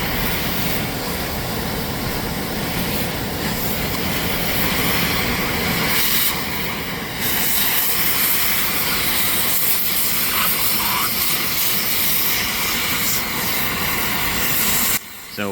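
Oxy-fuel cutting torch slicing the outer shell off a forklift mast roller, a steady loud roaring hiss running almost unbroken throughout, with a brief dip in intensity partway and a sharp break near the end.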